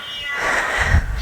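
A cat gives a single short meow, close and clear, lasting about a second.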